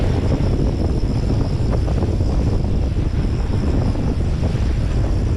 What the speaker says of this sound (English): The wind's picking up out here